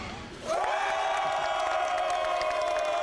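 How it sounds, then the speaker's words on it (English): Cheerleaders and a crowd cheer at a college football tailgate outside Turner Stadium, a sudden loud burst of yells and whoops that holds steady for a few seconds. "we got cheerleaders cheering"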